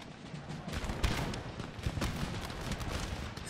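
Muskets and cannons fire in an Empire Total War battle, a busy stream of overlapping shots and thuds rolling on steadily at moderate loudness.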